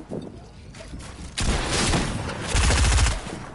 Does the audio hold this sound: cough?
no